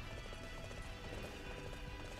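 Horse hooves clip-clop in Dynasty Warriors 8 Empires, a rapid, continuous galloping patter over a dense, loud game soundscape throughout.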